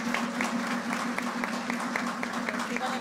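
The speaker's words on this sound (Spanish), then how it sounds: "yo quiero que le demos un aplauso nuevamente a nuestro obispo" A church family-movement gathering applauds its bishop, Monseñor Grullón, with dense, even clapping from a crowd. A low hum sits under the applause from start to finish.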